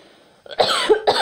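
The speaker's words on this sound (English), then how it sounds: "I have developed a cough now," A single loud, close cough comes after a moment of near silence and is followed by a second shorter burst, like throat-clearing.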